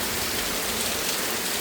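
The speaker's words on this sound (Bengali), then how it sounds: "ভালোই বৃষ্টি হচ্ছে।" Heavy rain pours down outside in a steady, dense hiss of drops, constant and unbroken throughout, with no voices.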